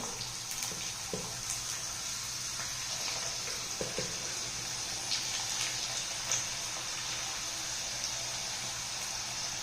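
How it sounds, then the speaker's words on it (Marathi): Methi puris made from wheat flour deep frying in hot oil, a steady close hiss of bubbling oil with small crackles and pops throughout, no talking. "ह्या पुऱ्या आपण या तेलामध्ये तळून घ्यायच्या आहेत"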